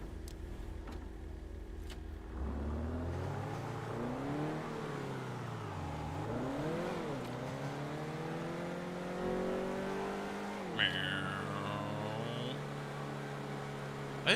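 A car engine in the game GTA starts, then revs and accelerates through rising and falling gear changes, a steady close engine drone that climbs in pitch and ends with a brief high whine.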